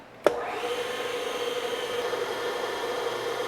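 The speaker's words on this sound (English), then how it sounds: "go ahead and start up our spindle" A manual metal planer milling machine's spindle starts with a sharp click and then settles into a steady, loud motor whine and hum that runs unbroken to the end, with no talking.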